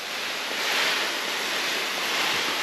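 A shower head sprays water in a bathroom, a steady, close hiss of running water that holds evenly throughout with no talk.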